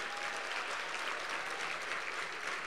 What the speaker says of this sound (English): can we just give the DACA young people a round of applause?